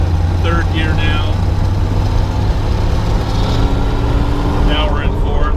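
A 1983 Jeep CJ5 with an AMC engine and its doors off drives along, its engine droning loud and steady throughout with wind and road rumble.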